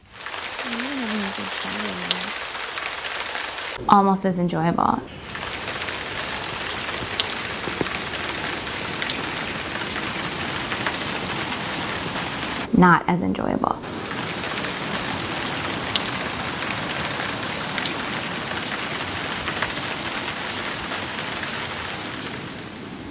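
Steady, dense rain falling on surfaces throughout, loud and close, broken twice by a short spoken phrase.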